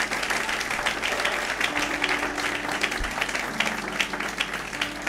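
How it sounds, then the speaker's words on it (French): A church congregation in Morocco applauds a visiting pastor from Kinshasa with dense, continuous clapping that fills the room at an even level from start to finish. "Est-ce qu'on peut acclamer? C'est un serviteur de Dieu."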